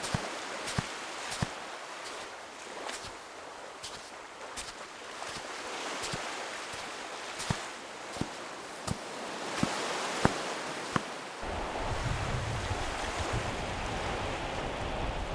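Waves break and surge on a Scottish beach near Bass Rock in a steady wash of surf, with scattered sharp clicks and knocks over the rush and a louder, rougher swell toward the end.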